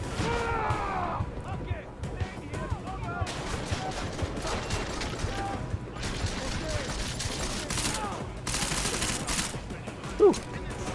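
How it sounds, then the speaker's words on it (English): Gunfire in the video game Deus Ex: Mankind Divided: dense, sustained bursts of shots and mechanical clatter run throughout, loud and continuous, with people talking over it. "Shooting at someone."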